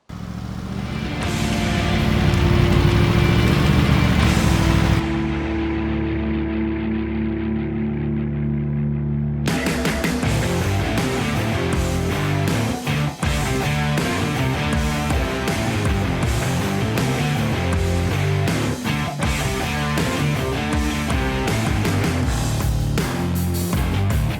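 A 2026 Norton Manx R Signature with a 1200cc V4 engine revs hard on a UK road ride, loud and close, its engine note rising and shifting through gears under wind rush and a brief quieter stretch.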